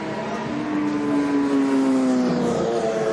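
A superbike engine screams steadily during a celebratory wheelie after a British Superstock 1000 race win, a loud sustained high-revving tone that drifts slightly in pitch amid ambient track noise.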